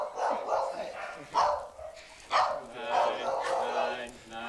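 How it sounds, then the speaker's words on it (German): A family's pack of dogs at a home in Windhoek, Namibia, barks loudly in greeting, a rapid series of overlapping barks and yips close by, with a voice speaking over the noise. "Lautstarke Begrüßung der familieneigenen Hundestaffel."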